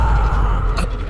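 A stuck door creaks and strains as someone forces it open, a loud, rough, grinding creak lasting about a second with a brief squeak near the end.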